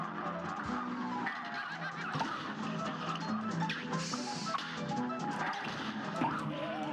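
Goose honking in a cluttered, busy scene, repeated honks layered over crashes and thuds at moderate loudness, with no talk.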